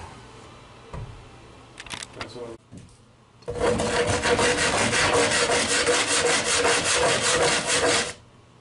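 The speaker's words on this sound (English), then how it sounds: "Maybe try it with a scrub brush." A stiff scrub brush scrubs tar off the hull of a Bertram 25 boat under restoration, a few short scrapes first, then a loud, steady, rapid back-and-forth scrubbing for several seconds.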